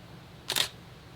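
A single-lens reflex camera's shutter fires once during an exposure, a short, crisp mechanical click-clack heard clearly and close against a quiet room.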